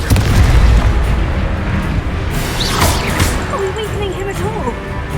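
A Confringo fire spell detonates in the video game Hogwarts Legacy, a loud, deep boom at the start that rolls off into a lingering rumble, with brief voice-like calls over the tail.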